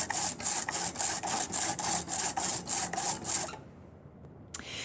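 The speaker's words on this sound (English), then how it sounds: "Now use the brayer to roll out the ink." An ink brayer rolled repeatedly across an inking surface during a fifth-grade printmaking session, giving a rhythmic series of about a dozen quick, hissing, static-like crackling strokes that stop abruptly, followed by near silence and a faint tap.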